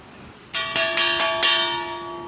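Metal rings out as an empty 50-pound gas cylinder is tapped four times, each strike leaving a bright, hollow bell-like tone that lingers and slowly fades.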